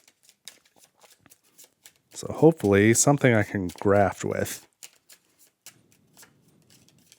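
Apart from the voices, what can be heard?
shuffling a deck of cards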